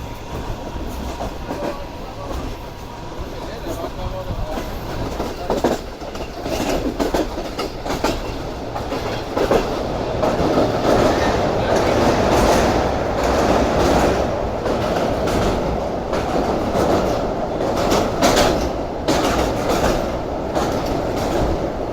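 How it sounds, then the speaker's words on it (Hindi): The 2 Down Shah Latif Express rolls past near Malir station at reduced speed, a loud, steady rumble with rhythmic wheel clatter building and holding close by, without talk. "To down शाहदीफ express Malir station से निकली है और हमें अचानक से मिल गई।"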